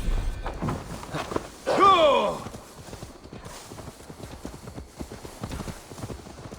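Hooves clip-clop steadily as a horse walks in Assassin's Creed Valhalla, with a brief neigh and louder thumping near the middle and faint voices underneath.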